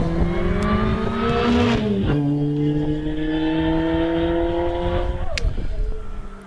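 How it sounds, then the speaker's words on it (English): A supercharged Vauxhall VX220 race car climbs a hill at a British championship hillclimb at Harewood, its engine loud and close, pitching up through the gears with a sharp shift and a brief throttle lift. "Peter Vincent now winding his way towards the top of the hill with the supercharged Vauxhall VX220."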